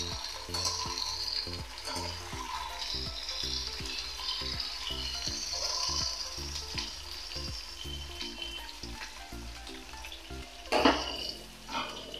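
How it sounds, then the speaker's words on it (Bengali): Ridge gourd, potato and onion fry in hot oil in a kadai with a black cumin tempering for puti fish curry. A continuous sizzle runs under rhythmic stirring scrapes and light utensil clinks, and a louder clatter comes near the end. "এটা ভাজা ভাজা হতে থাকুক, আমি কাঁচা লঙ্কাটা দিয়ে দিচ্ছি।"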